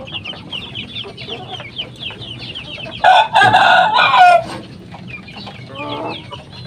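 Backyard chickens and roosters raised as livestock cluck steadily, then a loud, close rooster crow rings out in the middle, with more clucking trailing after; no talking.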